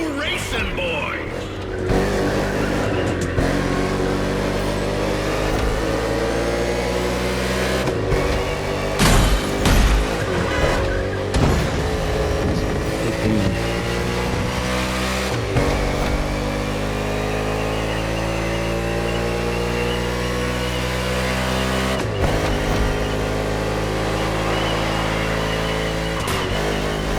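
NASCAR stock cars roar and rev on a track in The Crew Motorfest racing game, engines droning continuously with gear shifts and surging accelerations, loud and close.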